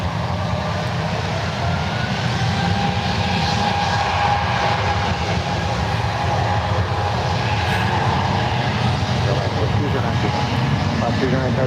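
Airbus A320 airliner accelerating down the runway at San Francisco International, a loud steady engine roar sustained throughout with a faint tonal whine, partly overlaid by talk.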